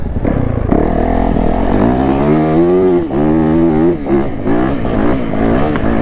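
A Yamaha YZ450F motorcycle running at top speed, its engine drone loud and close, pitch climbing and dipping with the revs for the whole stretch.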